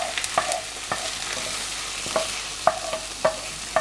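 Onions, garlic and mince, seasoned with salt and pepper, being stirred in a preheated slow cooker pot for chilli con carne, with repeated sharp clinks and scrapes of a utensil over a low sizzle.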